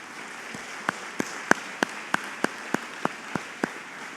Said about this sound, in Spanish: solicito un fuerte aplauso a nuestros panelistas